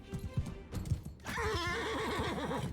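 A horse neighs loudly in the video game Mount & Blade 2: Bannerlord, a shrill, wavering whinny that follows a few hoof clip-clops, close and prominent over the battle noise.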